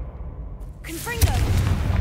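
A Confringo blasting curse explodes in Hogwarts Legacy, a sudden close burst rising out of quiet and followed by a sustained rumbling roar with whooshing magical tones and lingering crackle.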